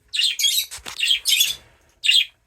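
Several birds chirp and call in quick bursts of bright, high tweets separated by short pauses, fairly close and loud, with no voices, heard indoors among nepenthes and cephalotus carnivorous plants.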